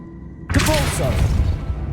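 A Depulso spell from Hogwarts Legacy hits halfway through, a sudden loud whooshing blast that fades slowly into a rumbling decay over the game's background.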